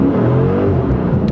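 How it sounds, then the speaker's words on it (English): Chrysler 300C SRT-8 V8 accelerating hard in first gear with wheel spin, a loud, deep engine roar rising in pitch, heard close up from inside the car. "I got a lot of wheel spin there."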